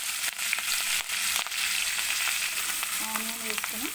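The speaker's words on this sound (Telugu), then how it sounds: "తీసుకున్నాక అదే ఆయిల్లో కరివేపాకు, పచ్చిమిర్చి వేయాలి." Curry leaves and green chillies dropped into hot oil crackle and sizzle steadily throughout, a close, dense frying hiss broken by a few sharp pops, with no talking.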